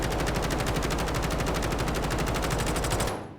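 Kilo rifle from Call of Duty Black Ops 6 firing on a firing range in sustained full-auto bursts of rapid, loud, evenly spaced shots lasting about three seconds, then cutting off into a short fading tail.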